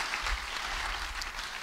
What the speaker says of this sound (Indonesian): beri tepuk tangan yang baik bagi Tuhan